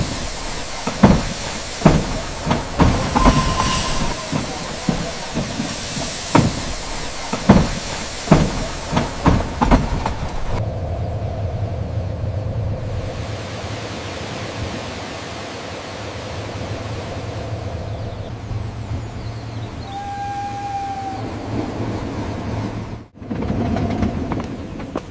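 Sound effect of a train journey: rhythmic rail clatter and hissing beats for about ten seconds, then a steady rumbling carriage interior with a brief tonal whistle before a sharp drop and return.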